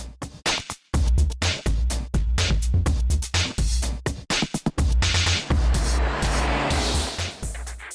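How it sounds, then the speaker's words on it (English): A Mazda MX-5 open-top roadster drives past with a loud, steady engine drone that is broken by abrupt cuts, then gives way to a rushing, wind-like wash. "This is a Mazda MX-5."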